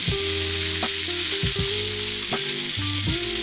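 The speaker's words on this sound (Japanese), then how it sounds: "漬け込んだミルポアを今度しっかり炒めていきます" Marinated mirepoix vegetables frying in an iron pan for beef bourguignon, a loud constant sizzle with repeated scrapes and knocks of a utensil stirring at a slow, uneven pace.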